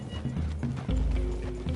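Horses in the Red Dead Redemption 2 game clip-clop steadily on the ground, close and clear, with a snorting whinny in the middle.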